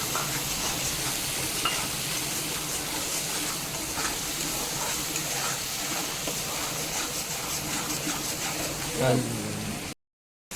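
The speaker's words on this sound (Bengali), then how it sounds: "আদা, পেঁয়াজ, রসুন ও শুকনো লঙ্কার যে পেস্ট বানিয়েছিলাম সেই পেস্টটা খুব ভালো মতো করে ভেজে নেব।" Ginger, onion, garlic and dried chili paste frying in a wok for Kashmiri dum aloo, a steady close sizzle with stirring scrapes throughout, ending in a brief moment of silence.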